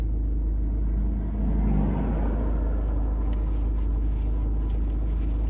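A car rumbles at close range with a low, steady engine drone and road noise, moving off gradually without a sharp rev.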